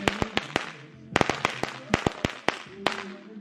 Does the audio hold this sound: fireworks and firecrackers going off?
yes